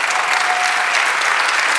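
A church congregation applauds during a worship service, giving dense, steady clapping from many hands that fills the room loudly and evenly, with no voices audible over it.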